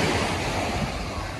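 Ocean waves wash continuously on Dadar Beach in Mumbai, a broad, steady roar of surf mixed with wind buffeting the microphone, with no voices.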